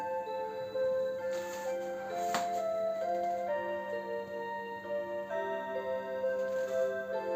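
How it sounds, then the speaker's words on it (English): Steady ticking from a Seiko QXM378B clock, heard close and continuous beneath a melodic chime tune playing throughout, with no talking. "I hear ticking again"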